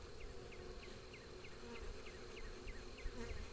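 A dense, steady buzz of many honey bees humming together at a hive, close and continuous, with faint higher chirping notes repeating in the background.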